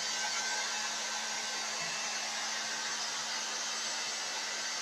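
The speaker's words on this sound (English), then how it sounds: "blow my hair using my blower" A handheld hair dryer blows steadily on someone's hair in a home parlor, a constant close airy whoosh with a faint motor whine, unbroken for several seconds with no talk.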